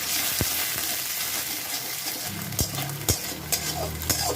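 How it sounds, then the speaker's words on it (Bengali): Two beaten eggs with salt scrambling in a hot pan over a lowered gas flame, a continuous sizzle broken by several sharp spatula scrapes and taps against the metal, close by and with no voices. "ডিম দুটো ভুজি বানিয়ে নেব"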